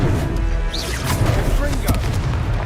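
Confringo fire spell blasts in Hogwarts Legacy combat, heavy booming impacts with crackling bursts over a constant rumbling battle bed, with a voice calling out.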